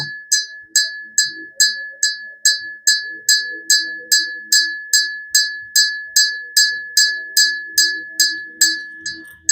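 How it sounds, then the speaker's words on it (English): A big, wide bell struck by its hand-held clapper about twenty times in a steady rhythm, each clang ringing loud and close before decaying into the next strike. "Trying to ring the bell so you can see."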